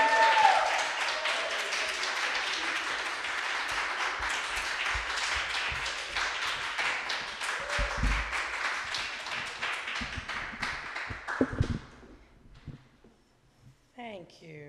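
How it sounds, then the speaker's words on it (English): An audience at a poetry reading and art exhibition closing event applauds in a long, steady patter of moderate loudness that fades out near the end, followed by a brief voice. "So come on up, give a round of applause to Destinny as Destinny makes it to the stag"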